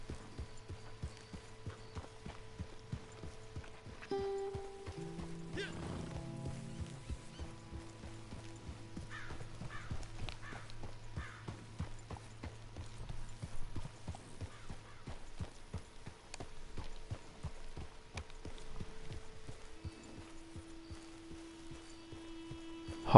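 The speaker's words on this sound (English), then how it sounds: "Horse is out of control." Horse hooves pounding in Red Dead Redemption 2 Online on PS4 Pro, a steady clip-clop gallop with a neigh, set under droning game music and effects, fairly close and moderately loud.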